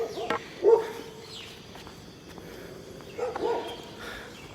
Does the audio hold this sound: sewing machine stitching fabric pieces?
no